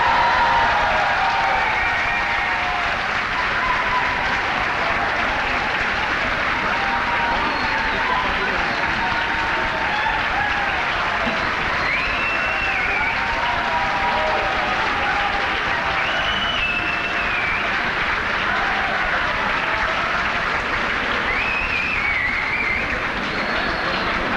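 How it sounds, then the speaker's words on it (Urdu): A conference audience claps steadily for a speaker walking onto the stage, making a dense, continuous wash of applause that holds at an even level for over twenty seconds, with a few faint voices mixed in. "جب تک اسٹیج پہ تشریف لا رہے تالیاں بجاتے رہیں۔"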